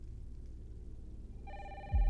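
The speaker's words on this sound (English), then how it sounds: "Oh, someone's phone's ringing." A telephone rings, its electronic tones starting partway through and sounding clearly over a low background hum.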